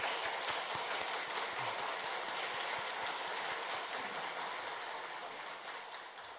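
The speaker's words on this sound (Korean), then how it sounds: "우리 박수로 환영하도록 하겠습니다." A church congregation at a Sunday worship service applauds in welcome, a dense, steady patter of many hands clapping that fills the room and slowly fades toward the end, with no talking.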